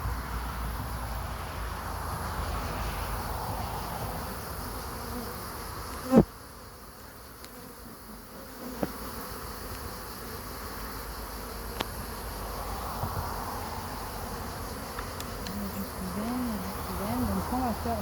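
Honeybees buzz steadily around open beehives outdoors, a dense continuous drone close by, broken by a sharp clack and a few light knocks of hive equipment.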